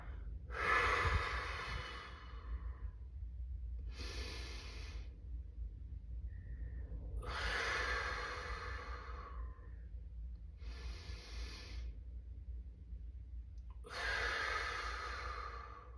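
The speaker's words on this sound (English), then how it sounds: "breathing in through the nose, filling the entire stomach with air, and then breathing out through the mouth, pushing the air out" Slow deep breaths, each drawn in through the nose and pushed out through the mouth, come as five separate breathy rushes spaced a few seconds apart with quiet gaps between, close and soft with no talking.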